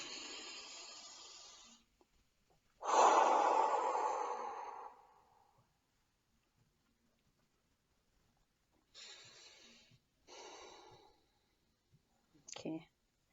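A person takes a few deep breaths alone in a quiet room, with a long drawn inhale, a slower exhale and softer shorter breaths later on.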